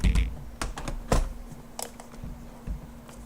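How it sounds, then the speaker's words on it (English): A computer keyboard shifted across a desk: scattered plastic clacks and knocks, a few sharp hits amid softer rattles, close and irregular, with no talking. "I'm gonna move the keyboard out the way."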